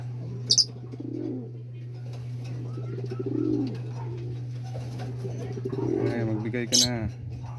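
Domestic pigeons newly paired in a loft coo in several soft, rolling bursts. Brief sharp wing flaps come near the start and the end, against a steady low hum.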